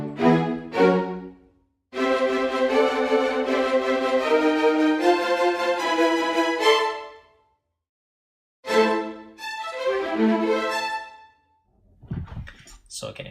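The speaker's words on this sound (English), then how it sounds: "Let's hear the whole ensemble staccato." A sample-library orchestral string ensemble plays short, snappy staccato notes with a fairly dry reverb tail. The notes come in dense bursts of repeated chords, broken by a couple of silent gaps, loud and alone.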